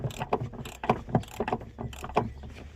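Metallic clicking and ratcheting as the handbrake is adjusted at the shoe end of a 1.9 diesel Mk1 Citroen Berlingo, a steady run of close, moderately quiet clicks with no talking.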